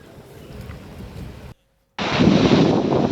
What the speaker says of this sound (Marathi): जोरदार पाऊस आता कर्जत परिसरात सुरू झालेला आहे